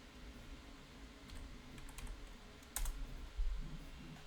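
Soft keystrokes tap on a computer keyboard, quiet and sparse at first, then a brief cluster of louder clicks over a low background hum.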